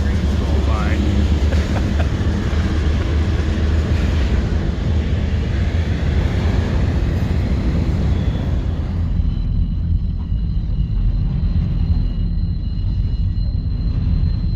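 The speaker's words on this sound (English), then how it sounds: "Got a train going by too." A train rolls past near a shanty boat on the Great Loop, a steady loud rumble with faint clickety-clack that fades out toward the end, a voice speaking over it.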